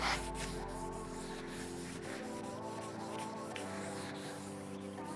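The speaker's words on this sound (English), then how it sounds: "Now you have your 1500 grit taking away the sanding" Steady rhythmic rubbing of 1500-grit sandpaper over a hard plastic headlight lens, close and even, with a low hum underneath.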